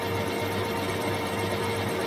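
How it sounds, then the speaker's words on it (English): A small workshop lathe takes gentle facing cuts on a large motorcycle brake part for a Triumph chopper, giving a steady, unbroken motor whir with a faint tonal hum throughout. "I'm just going to run some nice gentle cuts because it's quite big for this lathe."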